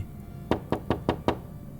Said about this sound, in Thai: เสียงเคาะประตูดังขึ้นมา